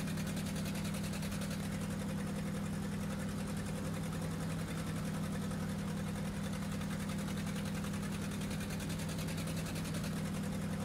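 A loud, steady idling drone from a Farmall 450 tractor engine in the video game Farming Simulator 2013, continuous and unchanging throughout with no talk over it.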